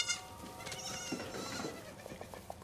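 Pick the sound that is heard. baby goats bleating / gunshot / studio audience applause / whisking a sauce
baby goats bleating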